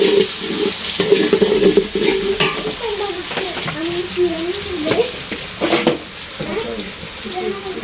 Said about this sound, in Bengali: সবজি আর চাল একসাথে কষিয়ে নিই।